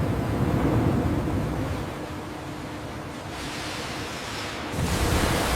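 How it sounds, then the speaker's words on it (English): Gigantic water flume channel in a papaya factory washing fruit, a steady loud wash of rushing, churning water that dips slightly in the middle and surges again near the end. "The papayas enter a gigantic water flume channel. Here, strong yet gentle waves wash away dust, soil, and impurities."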